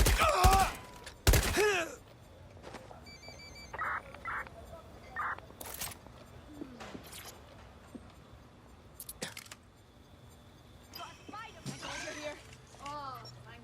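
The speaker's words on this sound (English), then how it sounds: "Gunshots!" Gunfire in the video game Watch Dogs: Legion, a few sharp loud bursts early on followed by scattered fainter shots and clatter through the rest, with a voice calling out between them.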